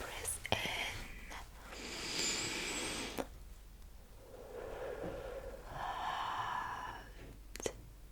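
Close, soft deep breaths drawn in and let out slowly during a doctor's exam role-play, airy and hushed, with quiet whispering between them.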